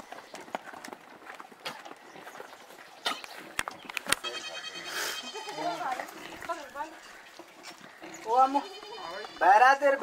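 Goats in an Uttarakhand village bleat several times among hoof clatter and scattered movement noises, moderately close, while people talk in the background.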